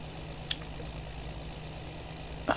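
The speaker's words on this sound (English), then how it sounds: "Oh no, this is kind of a loud tractor." A low, steady tractor engine drone in Farming Simulator 19 idles throughout, with a couple of brief sharp clicks breaking through.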